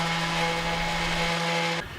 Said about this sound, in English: I'm starting off with some 60 grit on my random orbit sander